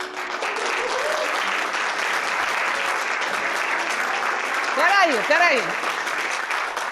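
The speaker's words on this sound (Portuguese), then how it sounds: "Estavam aplaudindo a beça." Theatre audience applauding after a stage performance: a sustained wash of many hands clapping at an even level, with a brief spoken word and voices rising over it near the end.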